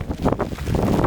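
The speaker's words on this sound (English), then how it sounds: "Ooh, it's windy." Strong wind buffets a microphone outdoors in Japan, gusty low rumbling bursts rising and falling in quick pulses, loud and close.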